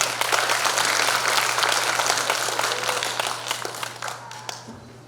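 Warm applause at a Democratic Party delegates' convention welcomes a speaker, a dense burst of clapping from a hall crowd that starts strong and gradually fades out.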